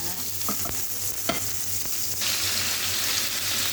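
Food fries in a hot kawali with a steady hissing sizzle, punctuated by a few sharp utensil taps, and the sizzle grows louder and fuller partway through; close, no talking.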